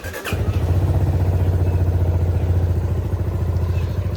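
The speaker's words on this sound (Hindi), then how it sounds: "इंजन की साउंड अगर आपको सुननी है तो आप सुन लीजिए।" A motorcycle fitted with an Eltron Turbo dual fog light kit idles steadily up close, its single-cylinder-style engine putting out an even, throbbing pulse after a brief start, with no talking over it.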